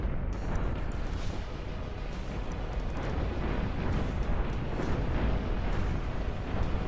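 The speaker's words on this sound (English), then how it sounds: "the missiles start blowing everything up from the center outwards" Missiles in the tower-defence game Defense Task Force blow up in a continuous, dense rumble of overlapping explosions, loud and steady throughout with no talking.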